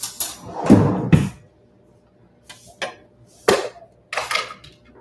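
A spoon pulled from a kitchen drawer clatters in several sharp metallic bursts, a couple of loud knocks early, then lighter clinks and rattles spaced out over a few seconds, close by with no talking.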